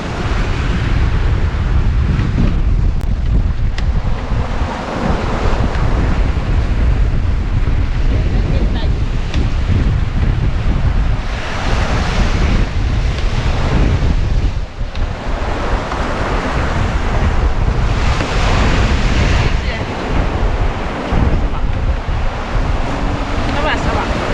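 A sailboat in the Bay of Biscay in a sudden blow of around 39 knots, with loud, continuous wind roaring across the microphone over crashing waves and surging water for the whole stretch.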